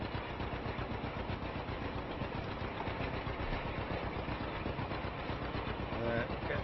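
A John Deere A tractor engine runs steadily at a constant idle-like throb while rolling wheat in the Farming Simulator 25 video game, a continuous mid-low drone under speech.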